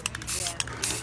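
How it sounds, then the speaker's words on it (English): Alcohol sprayed onto a gel stain finish, a few short bursts of close hissing spray with brief gaps between them. "Spray that with alcohol and show what happens."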